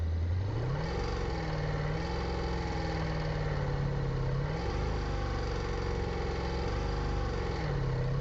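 Sports car engine idling and revving in a garage, a loud, close, continuous rumble with several smooth rises and falls in pitch as the throttle is blipped, with no talk over it.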